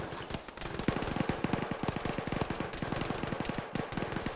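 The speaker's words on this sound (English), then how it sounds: "Somebody shooting at them?" Sustained automatic gunfire rattles in a military shooter game, loud, rapid bursts of close shots in a continuous stream with only brief gaps.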